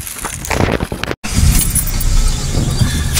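Car pulling up at night to collect passengers, a steady close road and engine rumble with jingling, rattling clicks and a brief dropout partway through.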